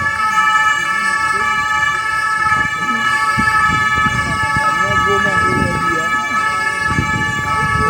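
A loud wailing police car siren sounds continuously and close by in Martinique, with traffic noise underneath; no one speaks.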